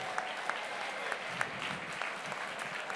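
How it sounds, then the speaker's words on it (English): Audience applause at a charity gala auction, a steady wash of many hands clapping at moderate distance with a few sharper individual claps standing out, filling the room continuously. "Yes, you could give a round of applause."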